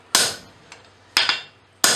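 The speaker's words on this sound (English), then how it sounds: "using the full length of the hammer handle and creating some nice snapping blows" A blacksmith's hammer strikes a punch driven through bright-hot steel while forging a skillet handle, three sharp snapping blows spaced about a second apart, each ringing briefly before fading, with a faint lighter tap between the first two.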